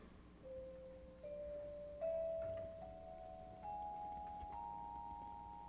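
An orchestra plays a whole tone scale, the notes rising one after another in even, sustained steps, clear and moderately soft with no voices.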